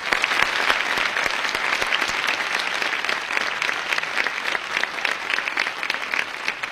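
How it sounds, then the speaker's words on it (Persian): A studio audience at a Persian television comedy show breaks into loud, sustained applause, dense rapid clapping filling the room evenly throughout. "خواهش میکنم تشویق کنید"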